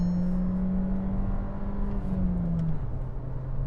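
A Skoda Slavia sedan with the 1.5 TSI petrol engine pulls hard after a downshift, its steady, loud engine drone holding at a constant pitch and then sliding down slightly near the end, with no talking.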